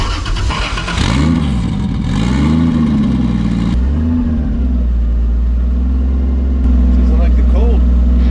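A 2JZ-swapped Miata, cold, revs in neutral with repeated swooping rises and falls before settling into a steady loud idle, and a voice talks over part of it.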